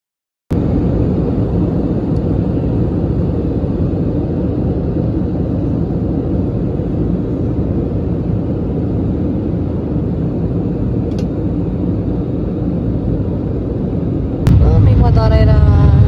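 Steady broadband roar of a Drukair airliner's engines heard from inside the cabin on a flight from Paro to Kathmandu, a constant dense drone that fills the whole stretch and swells louder near the end.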